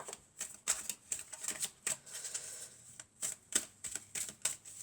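Tarot cards are shuffled in quick, crisp riffling bursts, close and fairly quiet, with short pauses between each flurry.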